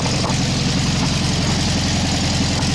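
A VW 1600 engine idles while warming up with the choke set, a loud, steady low rumble with an even rapid pulse that holds unchanged from start to finish, close by with no talking.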